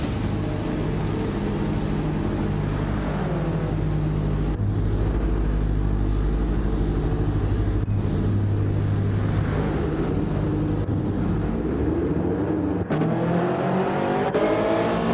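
Toyota Trophy race cars in Gran Turismo 7 at Deep Forest Raceway exiting the pits, engines droning loudly and continuously with rising and falling revs and gear changes, a dense steady roar throughout.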